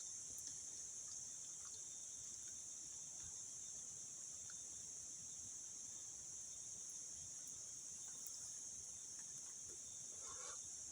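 Cicadas shrill in a constant high-pitched drone, faint and distant, steady throughout, with a few soft scattered outdoor noises beneath.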